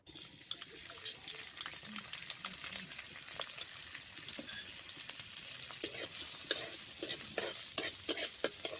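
Chopped garlic hits hot oil in a kadai and fries with a soft, crackling sizzle. Clattering stirs grow busier and louder toward the end.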